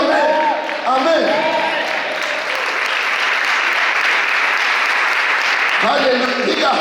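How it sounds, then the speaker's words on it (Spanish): A church congregation claps together in a dense, sustained burst of applause, with a preacher's voice speaking over it at the start and again near the end. "Yo quiero que aplaudas en el Espíritu"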